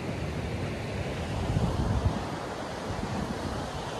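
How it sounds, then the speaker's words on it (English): Ocean waves wash steadily onto a beach under gusting wind that buffets the microphone, a continuous broadband roar with a slight swell in the middle and no voices. "I am here. I am at the beach."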